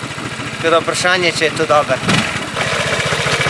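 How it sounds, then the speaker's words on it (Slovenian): A motorbike engine modified with Malossi parts runs at idle close by, a steady rough low thrum with a shaky, vibrating quality, while someone talks over it. "Cel motor ima vibracije."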